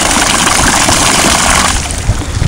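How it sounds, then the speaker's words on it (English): Steady whirring hum of an electric motor on a remote-controlled kayak running on throttle, loud and close, blended with splashing water and a slight change in pitch near the end. "Makes the motor spin."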